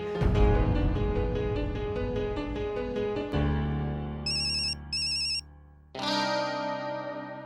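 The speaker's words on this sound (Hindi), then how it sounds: "तुम्हारा फोन बज रहा है।" A mobile phone ringtone plays loudly, a bright electronic melody with a brief beeping passage before the tune resumes; no talking.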